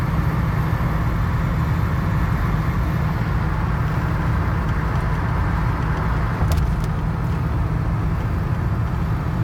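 1978 Mercury Cougar XR7 cruising on a freeway at around 55 to 60 mph, a steady broadband road and wind roar inside the cabin with constant low rumble.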